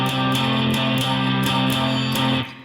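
A steady blues guitar shuffle pattern, with repeating chord stabs and a bright rhythmic pulse, played continuously for a few seconds before fading out.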